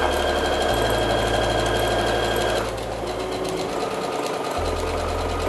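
A sewing machine runs a continuous seam around the edges of fabric for a bowl cozy, its steady motor hum and rapid needle rhythm close and loud, shifting slightly in pitch partway through.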